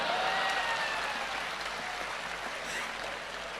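A large audience at a Hindi comedy poetry gathering claps steadily throughout, a thick continuous roar of applause that eases slightly toward the end.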